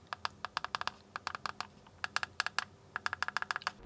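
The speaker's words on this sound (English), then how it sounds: "and you can hear the D-pad" Rapid, crisp clicks from the D-pad of a GameSir G7 wired Xbox and PC controller pressed close to the mic, in quick bursts with short pauses between.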